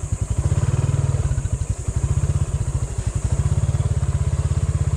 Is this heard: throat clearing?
no